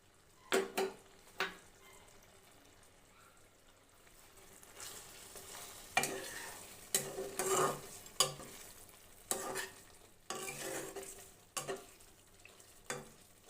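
Pre-fried masala goes into the pan for chicken korma and is stirred, quiet sizzling under repeated bursts of spoon scraping and clinks against the pan, spaced irregularly and close, no voices.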